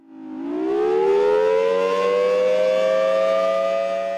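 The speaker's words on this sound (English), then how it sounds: "We don't run the siren on a regular basis." A civil defense siren winds up from a low groan to a loud, sustained wailing tone that holds steady and strong.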